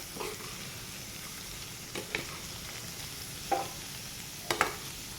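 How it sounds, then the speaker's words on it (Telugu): Cabbage sizzles steadily in a frying pan for a cabbage potato curry, with a few soft scraping clicks from stirring over the constant frying hiss. "ఇప్పుడు క్యాబేజ్ మొత్తం కింద నుంచి కలుపుకోండి. కింద నుంచి పై వరకు కలుపుకుంటూ ఉండండి."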